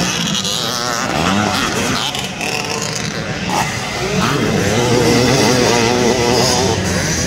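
Vintage motocross bikes race at Daytona, with several engines revving and droning together in a continuous loud buzz that rises and falls in pitch as the bikes pass close by.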